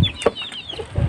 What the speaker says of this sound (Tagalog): Gutom na kasi yung aking mga manok.